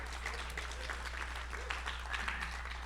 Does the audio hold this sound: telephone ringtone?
no